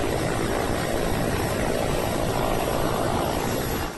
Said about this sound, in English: Flood hit are being rescued using choppers.